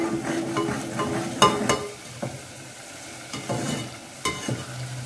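Red chili and turmeric fry in a pan while a spoon stirs and scrapes, giving steady sizzling under several sharp scraping strokes, close and clear with no talk.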